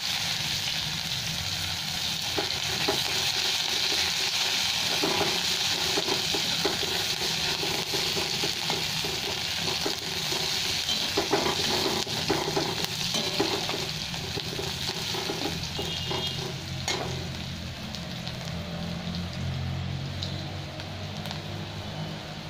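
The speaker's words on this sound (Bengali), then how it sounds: "মশলাটা ভাজা হয়ে গেছে, এবার আমি একটা পেঁয়াজ ছোট কেটে দিয়ে দিলাম" Finely chopped onion sizzling in oil with spices, bay leaf and five-spice: a loud, dense crackling hiss that carries on throughout, with occasional stirring scrapes.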